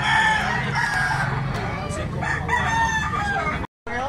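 A stag rooster crows close and loud, a long harsh cock-a-doodle-doo with clucking around it and some background voices.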